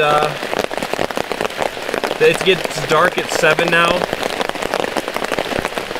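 Heavy rain drums steadily on a tarp at a campsite, a dense, continuous patter with scattered louder drops, while a person talks over it close by.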